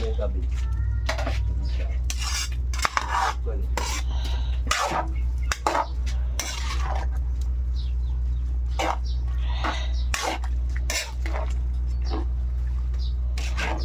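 Cabbage goes into a cooking pan and is stirred, giving close clatter and scraping of utensil against pan with brief metallic knocks, over a steady low stove hum while people talk throughout.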